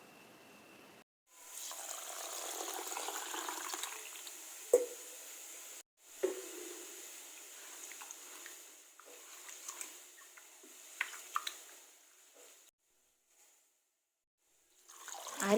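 Water poured from a tap into a vessel of soaking rice in a home kitchen, a close splashing pour that starts, stops and resumes in separate bursts with short quiet gaps.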